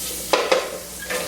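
Onions sauteing in a pan, a soft hiss of sizzling with two quick spatula scrapes close together and a fainter one at the end, brief and near, with no talk.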